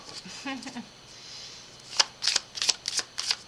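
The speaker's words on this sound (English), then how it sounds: "I'm going to start by pulling from this Moon Magic deck" A Moon Magic oracle card deck is shuffled up close, a brief voice at first, then several quick crisp riffling bursts in a row.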